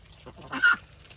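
A single short, honking quack from a pet duck rings out close by against a quiet background.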